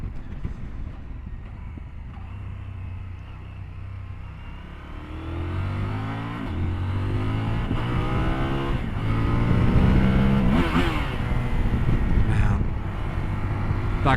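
A CF Moto 1000 MT-X motorcycle cruises on the highway, its engine drone steady with wind rush, then climbing in pitch through rising revs and gear changes, loud and close throughout.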